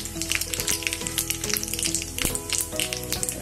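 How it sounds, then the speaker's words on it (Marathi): Red chillies, cumin and mustard seeds sizzle and crackle steadily in hot oil in a small tempering bowl, close and loud, with a dense continuous hiss and frequent sharp pops. "फोडणीच्या वाटीत तेल घेतलंय. ते जिरं मोहरी टाकते."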